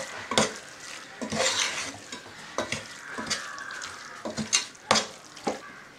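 Kerala-style beef curry being stirred in a pan: repeated spoon scrapes and clinks against metal at an uneven rhythm over a soft sizzle, close and without talk.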